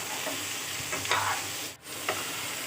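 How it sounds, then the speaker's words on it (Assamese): Chopped cucumber being stirred in a frying pan with a soft steady sizzle, a few spoon scrapes close by and one brief dip partway through. "আৰু এতিয়া মই ইয়াতে কাটি ৰখা তিয়ঁহখিনি দি দিছোঁ আৰু এইখিনি ভালকৈ লৰাই দিম"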